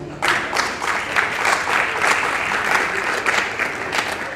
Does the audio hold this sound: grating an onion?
no